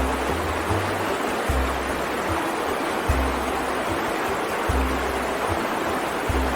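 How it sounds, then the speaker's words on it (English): Water flowing steadily in a river, a continuous broad rushing wash with a low periodic throbbing underneath, heard alone and fairly close. "it is water flowing in the river."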